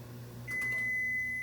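A microwave oven heating French toast finishes with a single sustained high beep over the appliance's low steady hum, close and clear.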